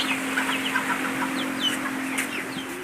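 Several chickens clucking close by, a continuous layered chatter of short clucks over a steady low hum, with no talking.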